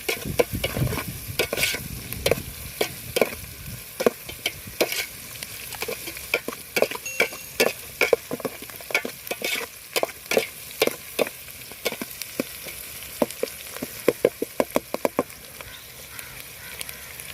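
Seashell meat sautéed in a pan for a spicy shellfish thokku, with a continuous sizzle and rapid, rhythmic scraping of a spatula stirring close by for a long stretch, no voices.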